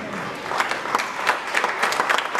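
A church congregation applauds loudly at a religious gathering, a dense burst of clapping with some voices mixed in, filling the room.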